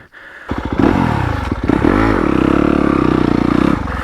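A stock Yamaha YZ250FX dirt bike climbs in first gear, its engine starting up then revving loudly and steadily up close, with a brief dip and clatter over loose ground.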